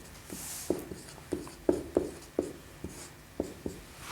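A pen taps and strokes across paper as multiples of 2 and 5 are written out by hand, a close, quiet series of short scratchy marks at an uneven pace.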